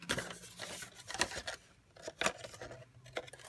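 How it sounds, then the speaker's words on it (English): Scissors trim the front edge of paper for a Stampin' Up! open box treat holder, making several crisp, close snips in uneven bursts with short pauses between them. "So we're going to give the front edge a trim"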